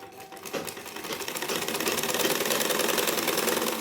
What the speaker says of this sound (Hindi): फिर हम इसको दबाएंगे सिलाई से